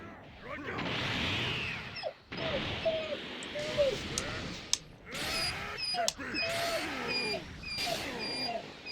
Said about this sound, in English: I don't know what my dog wants. He's just crying for fun.